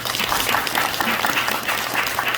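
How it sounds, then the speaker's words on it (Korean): Audience members at an evening reading forum at Dongguk University applaud for the foundation's chairman, a brief, steady round of dense clapping filling the hall. "박수 한번 쳐주시죠."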